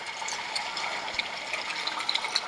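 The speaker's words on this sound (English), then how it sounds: "This octopus is gonna get me covered in water." Water spraying and splashing from an octopus feature at an outdoor water park in Singapore, a steady close hiss of falling spray with scattered bright droplet splashes, no talk.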